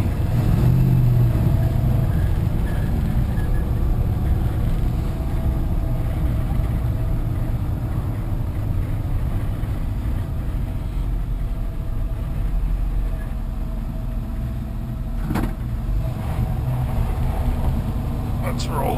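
A 1972 Chevy C10 Cheyenne pickup truck engine drones steadily while driving, with a loud, continuous low rumble inside the cab under someone talking.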